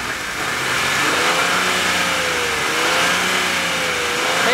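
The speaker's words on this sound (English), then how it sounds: "Okay, push on the gas. Keep it pushed." A 2006 Buick engine running on a homemade gasoline vaporizer revs and holds under throttle, a loud, close, steady drone with a gently wavering pitch.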